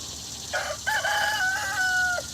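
A rooster crows once in a backyard hen pen, a clear, drawn-out call lasting nearly two seconds over a steady low background hum.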